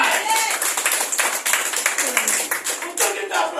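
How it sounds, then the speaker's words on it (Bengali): An audience breaks into clapping at a talk, a dense burst of many hands close by that keeps going and rises and falls, with some voices mixed in. "একটা হাততালি যায়"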